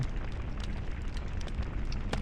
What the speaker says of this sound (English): Just this crackling as the beam slowly chews through the enemy ship.